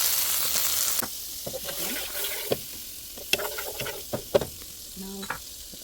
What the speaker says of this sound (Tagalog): searing the chicken, and I think it's time to flip.